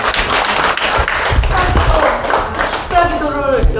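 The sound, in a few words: applause at church founding ceremony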